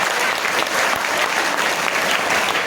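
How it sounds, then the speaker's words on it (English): A school audience of students at a health and fitness seminar in Ratnagiri claps for a girl, with dense, steady applause from many hands filling the room at close range. "Claps for this girl."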